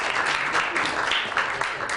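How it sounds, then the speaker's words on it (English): An audience at a lecture claps steadily after the talk, brisk and continuous throughout. "You're clapping for the ma'moul, I know you are."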